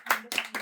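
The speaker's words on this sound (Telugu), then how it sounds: "క్లాప్స్." Audience clapping after a card trick, three short distinct bursts of hand claps close by.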